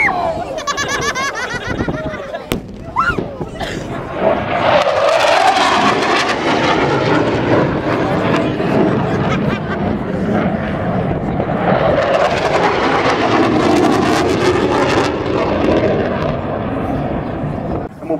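Military jet aircraft roar past at the 2011 Southport Air Show during a simulated missile attack display, a loud sustained engine roar that swells and fades twice while an announcer talks over a public address system.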